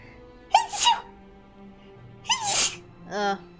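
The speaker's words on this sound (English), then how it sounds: "Oh no, I feel a sneeze." Three sneezes in a row, close and loud, with quiet pauses between them; the last is shorter and more voiced.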